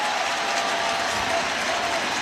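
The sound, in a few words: stadium crowd cheering at Yankees World Series game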